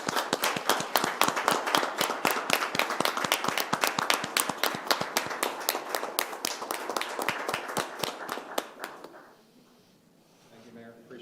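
A crowd at a town commission meeting claps steadily in dense, rapid applause for several seconds, then it tapers off abruptly into quiet room noise.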